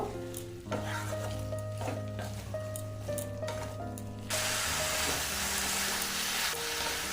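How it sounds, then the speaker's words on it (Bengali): Pumpkin stems, potato and eggplant sauté with spices for a vegetarian Bengali chorchori. Background music with melodic tones fills the first half, then a steady, close broadband sizzle takes over alone. "কুমড়ো ডাঁটাটা আলু বেগুন আর মশলার সাথে ভালোভাবে একটু কষিয়ে নেব"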